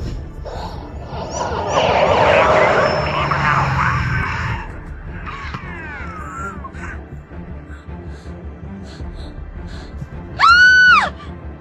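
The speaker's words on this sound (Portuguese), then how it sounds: "Houve gritos, o que foi?" Screams from a horror film scene: a loud, sustained shriek with a noisy rumble beneath it, then quieter cries and voices, and finally a short, high, wavering scream near the end.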